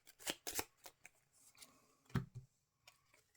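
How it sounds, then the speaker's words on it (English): A deck of playing cards for the Marvel Champions card game shuffled in a few short, soft riffling bursts, close and quiet with pauses between them. "I'm going to shuffle between each one."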